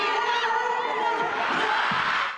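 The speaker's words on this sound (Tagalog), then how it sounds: "hiyawan agad ang sinalubong ng fans ni na ex-PBB housemates Will Ashley at Bianca De Vera" A crowd of fans screams and cheers at a celebrity fan meet for former PBB housemates, a loud, sustained wall of high-pitched shrieks that swells and then trails off.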